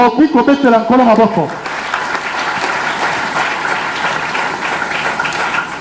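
A church congregation at a third-anniversary service breaks into sustained, dense applause after a brief stretch of singing or speech, the clapping steady and loud across the whole room.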